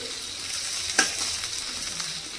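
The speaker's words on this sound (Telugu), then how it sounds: "అల్లము పచ్చిమిర్చి ఒకసారి కలిపేసుకుందాము పచ్చివాసన పోయే వరకు మనము వీటిని కుక్ చేసుకోవాలి" Chopped ginger and green chilies frying in a pan for chilli chicken, a steady loud sizzle with one sharp scrape of a spoon stirring, up close.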